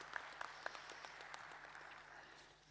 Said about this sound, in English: it needs a big applause on that one